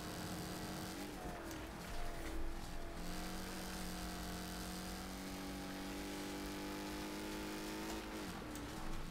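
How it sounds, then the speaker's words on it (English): Cars racing in the video game Wreckfest give a steady, loud engine drone throughout, with shifting revs and brief surges, and no talk over it. "it's so enjoyable to drive and just chuck these cars around"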